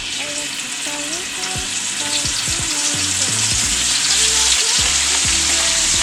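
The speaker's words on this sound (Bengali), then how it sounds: "মাছগুলো ফ্রাই করবো।" Fish pieces fry in hot oil, a loud close continuous sizzle that grows slightly stronger, with low thumps and clatter from the pan.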